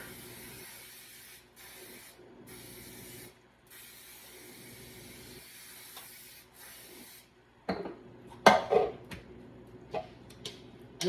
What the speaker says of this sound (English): I'm going to spray that with nonstick